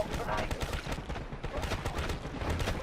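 Dense, continuous gunfire from a BRM gun in a zombies video game, loud and broadband with rapid overlapping shots filling the whole stretch, with talk mixed underneath.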